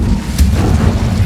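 The Incendio fire spell is cast in Hogwarts Legacy, a loud, steady rushing roar of flame with a brief crackling flare partway through.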